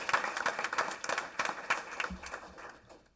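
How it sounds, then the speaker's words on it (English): Audience at a school district board meeting giving a round of applause, faint and fairly sparse clapping with distinct individual claps throughout. "If we could please give them a big round of applause."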